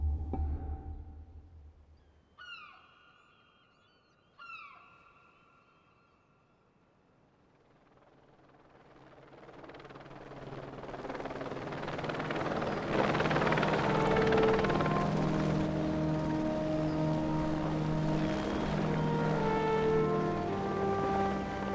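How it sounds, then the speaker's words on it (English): A rescue helicopter's rotor chop swells from distance into a loud, steady roar as it passes close overhead, after a few faint tonal beeps at the start. "Then the helicopter kind of flies overhead"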